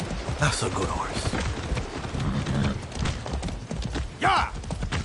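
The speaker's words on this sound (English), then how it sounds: "That's a good horse." Horse hooves clip-clop in the Far Cry 6 video game, a steady rhythmic beat running under game character dialogue and music, with a brief whinny-like call near the end.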